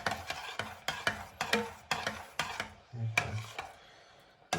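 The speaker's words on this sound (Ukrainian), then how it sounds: "І тут помішуємо, беремо." Rhythmic scraping and knocking of a spoon stirring Hutsul banosh, a cornmeal dish with pork cracklings, in a pot, with about eight close, regular strokes.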